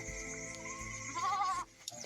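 A single close sheep bleat, wavering and nasal, with a low hum underneath, on a farm field beside a hill.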